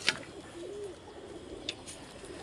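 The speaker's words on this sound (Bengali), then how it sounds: "এই যে পায়রা সব দিয়ে রেখেছি" Pigeons in a home loft in the evening give a faint, brief low coo over quiet background hiss, with a soft click or flutter at the start and another near the end.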